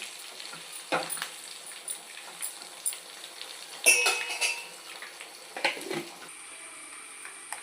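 Curry leaves, cumin and dried chilies frying in hot oil in a pan for a moong dal and bottle gourd curry, with a soft sizzle under a few sharp clinks and scrapes of a spoon against the pan.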